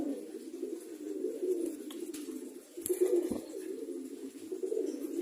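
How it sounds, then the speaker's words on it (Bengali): Pigeons coo in a low, continuous murmur close by, with a few brief rustles and flutters as they move about. "দেখেন কবুতরগুলো একটু উৎফুল্লভাবে নড়াচড়া করতেছে, মৌজ মাস্তি করতেছে"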